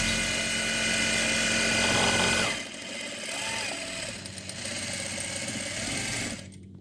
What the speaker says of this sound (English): Sew and back tack again, and sew fast.